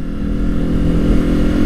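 A Japanese-market Honda CBR250RR MC51 motorcycle with an electronic throttle is being ridden. Its engine holds a loud, steady drone throughout, alone with no talk.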